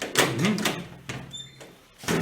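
A door swings open with a short squeaky creak and a faint thud, heard up close in a sketch scene with no talk.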